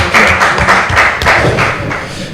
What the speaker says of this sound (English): Let's receive him with a warm round of applause.